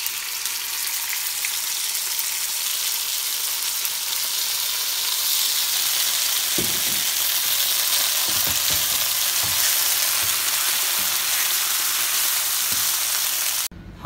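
Curry sauce frying with brown rice, soya pieces and peppers in a pan, a steady loud sizzle throughout with occasional stirring scrapes and clinks, no talking.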